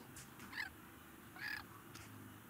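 A bird in the Outward forest caws twice, each call a short harsh croak about a second apart, faint and distant over low ambient game noise.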